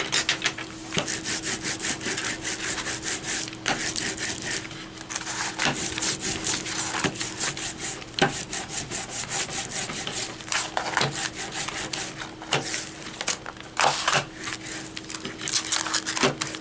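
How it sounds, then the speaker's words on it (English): Steady rubbing and scraping as a stencil transfer for a multi-layer Cricut stencil painting is rubbed down firmly, continuous close friction strokes with small clicks, no talking. "I'm just going to transfer it by giving it a good rub down and check."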